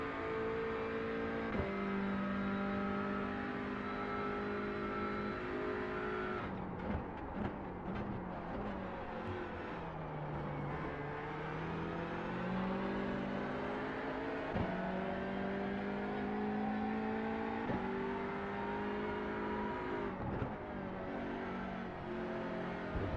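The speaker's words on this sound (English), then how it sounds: "The only thing I wish with these touring cars is there was a little bit louder, because they are really fucking quiet." Touring car engines race in Grid Rivals, a steady droning chorus of revving motors with rising and falling pitch as gears shift, loud and continuous throughout with no talking.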